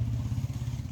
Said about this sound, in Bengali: এই যে বুলেটের আওয়াজ শোনা যাচ্ছে